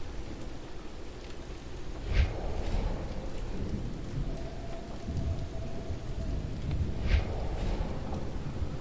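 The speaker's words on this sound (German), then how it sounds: "Der Regen ist ziemlich laut." Heavy rain in the video game The Pillars of the Earth, a dense steady downpour hissing throughout, with two deep thunder rumbles and a faint brief tone in between.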